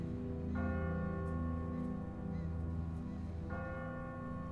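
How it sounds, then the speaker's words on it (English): Church bell tolling from a bell tower in The Walking Dead video game, with two strikes a few seconds apart whose long ringing overtones sustain over a steady low rumble. "Is that like a feeding bell?"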